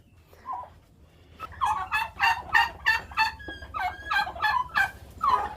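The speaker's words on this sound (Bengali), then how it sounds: "এই হলো আমার টার্কিগুলি" Turkeys gobbling in a flock on a farm, a run of loud rippling gobbles following one another closely and rising after a quieter opening, heard with no voices.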